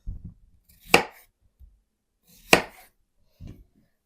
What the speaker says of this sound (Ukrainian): Ріжу огірки навпіл та ще на такі четвертинки.